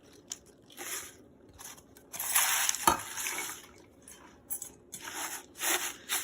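About one and a half cups of baby spinach packed into a blender in a home kitchen: crisp rustling and crackling bursts of leaves pressed down, with a louder crunch midway, close and intermittent.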